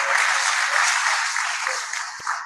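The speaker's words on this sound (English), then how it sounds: "Please, a round of applause for our Vice Chancellor." Steady audience applause for a university Vice Chancellor at a guest lecture on legal careers, dense continuous clapping filling the hall for a couple of seconds, near and fairly loud, with no talk over it.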